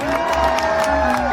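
Audience at a vintage pinup fashion show applauding and cheering, a dense continuous wash of clapping with whoops mixed in, loud and close.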